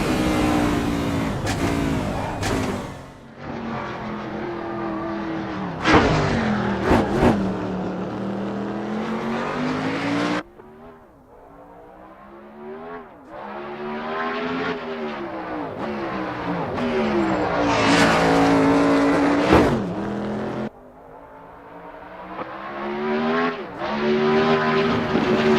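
A Formula 1 race car in the racing game Assetto Corsa screams through repeated high-revving acceleration and downshifts, with tyre squeal through the corners, loud and close, with long sweeping engine notes and sharp drops between gears.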